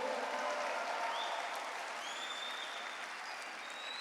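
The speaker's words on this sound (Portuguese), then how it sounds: "Quem recebe aí, dá um aplauso bem forte a Ele." A church congregation applauds at a Sunday service, dense continuous clapping filling the room, fairly loud and steady with no talk over it.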